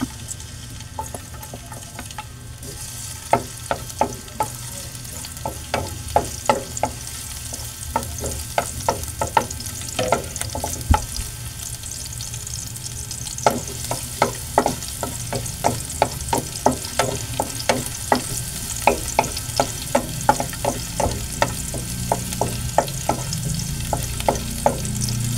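Garlic sautés in a hot pan for spicy adobong tahong (mussels), a steady sizzle and fry hiss with quick scraping stir clicks from a utensil coming in bursts throughout, close and fairly loud, with no talking.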